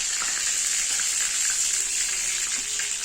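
Mustard seeds, curry leaves and dried red chillies tempering in hot oil for a fish curry, giving a steady close sizzle with faint crackles and no talk.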